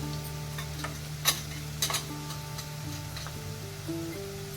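Asafoetida dropped into hot oil while cooking traditional Maharashtrian aluchi patal bhaji (colocasia leaf curry), giving a steady close sizzle with a few sharp stirring clinks over a low kitchen hum, with no talking.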